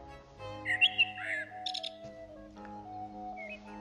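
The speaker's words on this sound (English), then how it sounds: "the blackbird whistling or just after" A few faint, clear blackbird whistles and chirps rise briefly over a steady low hum, then fade.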